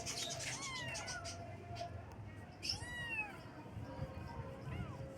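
A small kitten meows repeatedly in high, rising-and-falling cries, several clear calls spread across the span over a low background murmur, with faint voices in the room.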